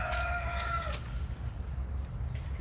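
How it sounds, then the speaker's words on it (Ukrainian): A rooster crows once, a long harmonic call in the first second, followed by faint low rumble from chickens living at a church in Dnipro, and no voices. "Це кури в церкві живуть."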